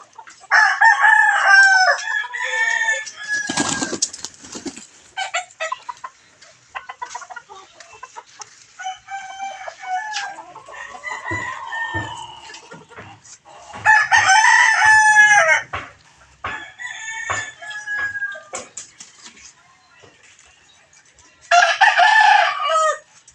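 Several native Visayan roosters crow loudly in repeated bursts, with hens clucking and scattered farmyard noises between the crows.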